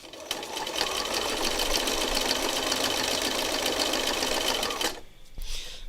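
A sewing machine runs continuously while free-motion stitching fabric, its motor whirring with a rapid mechanical needle chatter for about five seconds before stopping briefly and restarting.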